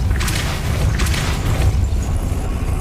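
The Depulso spell is cast in the video game Hogwarts Legacy, giving a deep booming thud with a rushing burst on top, followed by rumbling low-end effects that carry on loudly for a few seconds.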